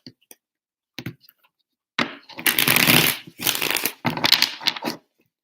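Tarot cards shuffled in a few quick riffling bursts after some light taps, close and crisp, with no talking.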